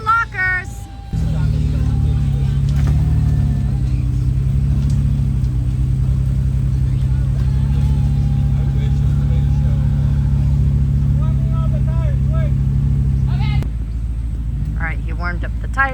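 An off-road Jeep with rear lockers revs hard with tires spinning, a loud sustained engine roar dropping briefly near the end, while people talk over it at an off-road wheeling event in Missouri.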